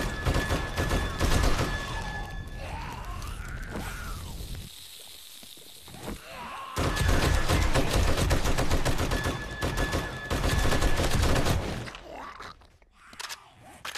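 Gunfire in the survival game 7 Days to Die comes as rapid automatic bursts, loud and dense, in two long stretches separated by a quieter pause with tonal game sounds.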